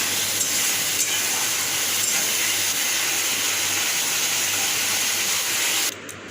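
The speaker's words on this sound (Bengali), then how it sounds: "তারপর আমি গোটা গরম মশলা, তেজপাতা আর জিরে, কালি জিরে, গুঁড়ো মশলা এগুলোকে সব তেলে কষিয়ে নিলাম।" Whole garam masala, bay leaf, cumin and nigella seeds fry in oil for palak paneer. A steady, loud sizzling hiss runs unbroken, then cuts off abruptly near the end.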